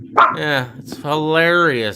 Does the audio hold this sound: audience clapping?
no